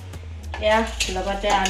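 Vegetables and potatoes fry in a pan at home, with a soft sizzle under repeated scraping and stirring strokes of a spatula against the pan and a low background hum.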